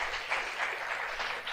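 A church congregation claps together in a brief, dense patter of applause.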